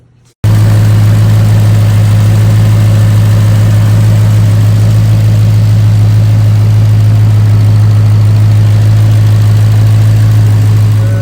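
A supercharged Whipple Mustang with a straight-piped exhaust idles loudly and steadily after a brief quiet start, a deep rumbling drone holding close and unbroken throughout.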